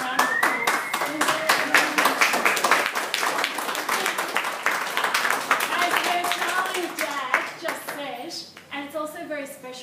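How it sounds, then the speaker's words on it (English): Hands clap from an audience at an art exhibition opening for an artist's paintings, a dense crackle that runs steadily, with voices talking over it and the clapping thinning toward the end. "Can we have a round of applause?"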